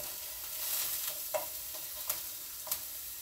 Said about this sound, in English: And hopefully you can hear the sizzle.